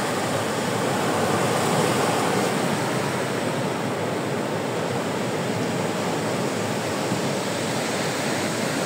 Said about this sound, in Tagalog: Yan po yung dagat ng Baler.